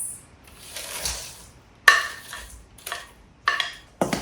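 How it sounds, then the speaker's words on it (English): Drained Brussels sprouts tumble into gochujang sauce in a pan, giving a soft wet sizzle followed by several sharp clatters and scrapes of a utensil against the pan, close and alone. "Now we're gonna add the drained Brussels sprouts into the gochujang sauce."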